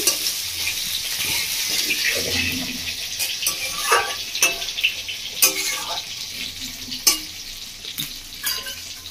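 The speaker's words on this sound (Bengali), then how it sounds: "আলু আর বেগুনটা ফোড়ন থেকে ভেজে নেব" Potato and eggplant fry in tempered oil over a medium gas flame, giving a steady close sizzle broken by clinks and scrapes of stirring.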